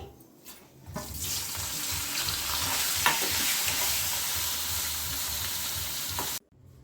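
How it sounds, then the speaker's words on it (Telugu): Bitter gourd pieces fry in hot oil until brown, giving a steady, dense sizzle and crackle for about five seconds before cutting off abruptly near the end, with no talking. "అలాగే ఉన్న వాటిని కూడా ఇంకా బ్రౌన్ కలర్ వచ్చే వరకు ఇవి కూడా వేయించుకోండి"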